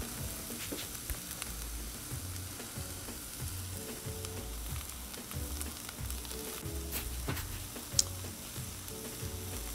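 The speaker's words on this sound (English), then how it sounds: "You can hear that sizzle." Chicken for tacos sizzles and crackles steadily on a hot Blackstone 22-inch griddle, with occasional scraping and tapping of a utensil.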